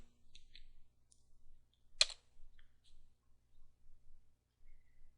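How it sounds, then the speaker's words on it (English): Someone types a Linux command on a computer keyboard, producing faint, scattered keystroke clicks with one sharper, louder key press midway in an otherwise quiet room. "typing in CHAGE space -L space Nancy"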